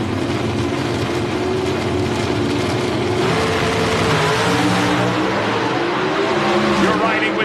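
Two Mopar drag racing cars at the 1994 NHRA Ford Quality Care Nationals accelerating side by side, a loud steady engine roar with rising pitch filling the whole stretch, with no talk.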